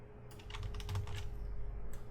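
Rapid keystrokes on a computer keyboard as a URL is entered, a quick run of close, light clicks over a low steady hum.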